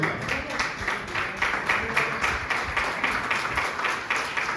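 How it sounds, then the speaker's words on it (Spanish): Church congregation applauding, a dense, steady wash of clapping from many hands with rhythmic pulses, moderately distant, with no talk over it. "Denle un fuerte aplauso al Señor."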